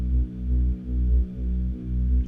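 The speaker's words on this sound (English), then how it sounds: "Just a sawtooth wave with some frequency cutting off" A buzzy, dark filtered sawtooth-wave synth tone with a rich harmonic stack, pulsing in slow repeated swells about every half second.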